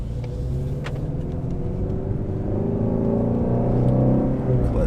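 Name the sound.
Ford Mustang GT350 accelerating after clutch release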